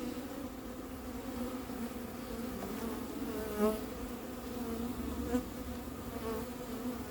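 Steady buzzing of many honeybees close by while a swarm is being collected and hived, a continuous droning hum with a couple of individual bees passing nearer.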